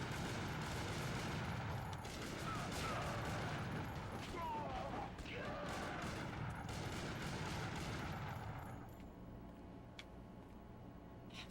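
The rapid 'bullet dance' gunfire attack in a video game, a dense continuous fusillade of shots layered under voices, then dropping off abruptly near the end to a quieter background.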